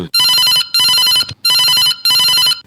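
A telephone rings for a farmers' call-in programme on All India Radio Bilaspur, four loud electronic trilling bursts in a regular on-off pattern, close and clear with no talking.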